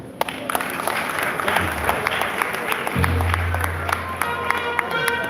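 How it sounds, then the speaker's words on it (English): Audience applause at a formal lecture event, steady broadband clapping from a crowd filling the whole stretch, with a low hum entering partway through and a voice faintly present beneath. "A round of applause for Okutebi."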